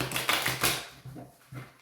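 A deck of tarot cards being shuffled by hand: a quick run of crisp riffling bursts, then a couple of shorter flicks, close and clear.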